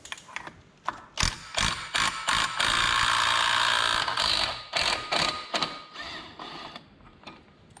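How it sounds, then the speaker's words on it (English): Clutch being removed from a Polaris 300 Sportsman quad bike using a hand ratchet, giving bursts of rapid clicking and a longer grinding mechanical stretch, close and fairly loud, with no speech. "we'll try and get this clutch off now"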